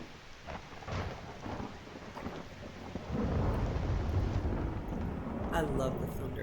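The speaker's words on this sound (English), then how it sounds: "I love the thunder. It's so cool." Thunder rumbles through a stormy night in the video game Skyrim, a loud sustained roll that swells midway over steady rain hiss, with game sounds layered throughout.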